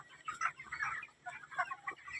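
Poultry-farm chickens cluck in short scattered bursts, a few birds nearby calling over a faint steady hum.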